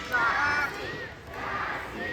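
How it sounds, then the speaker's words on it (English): Girls in the audience at a bird show at Manila Ocean Park cheer for a bird, raising a loud group shout that swells, dips briefly and rises again. "All the girls will cheer for Sassy"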